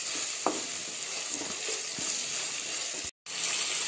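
Spices for a pigeon pea curry sizzle loudly in a pan after a splash of water goes in, a continuous frying hiss with occasional stirring clinks and one brief dropout.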